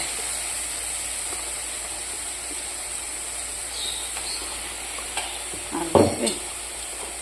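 Ground ginger, onion and garlic paste frying for ghugni cooked in mutton fat gives a steady, soft sizzle, broken near the end by a few louder scrapes and clatters of stirring.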